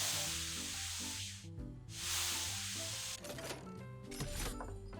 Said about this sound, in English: You just kind of point and spray.